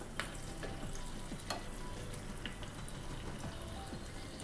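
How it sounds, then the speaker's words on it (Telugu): Raisins sizzle and crackle as they fry in hot ghee while making ghee rice, a steady close frying hiss with small pops and occasional stirring clinks, no voices. "ఇప్పుడు మనం కిస్మిస్ కూడా వేసుకుందాం."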